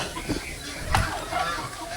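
Chicken clucks, a few short calls close by over a noisy background, with a slightly louder burst in the middle.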